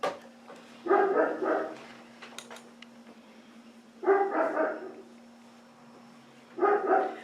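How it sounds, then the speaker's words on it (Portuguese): A pet dog barks in three separate short bursts, moderately close, over a steady low electrical hum in a quiet home sewing room, with no talking. "Vocês estão ouvindo esse latido, gente?"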